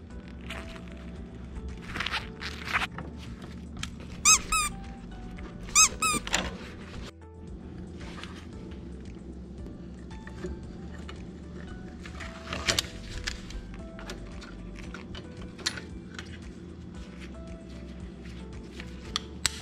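Pliers working a brake shoe return spring on the rear drum brake of a 1987 Honda Civic Si, giving close metallic squeaks, clicks and a few sharp clanks over a steady low workshop hum.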